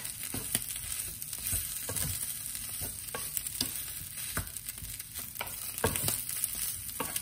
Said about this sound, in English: We try to saute them so they are not burnt.